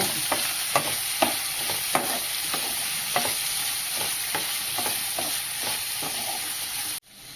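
Steady frying sizzle of brinjal and drumstick curry with a spoon stirring and scraping a pan in regular strokes, close up, no voices.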